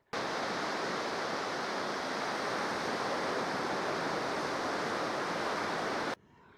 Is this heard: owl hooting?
no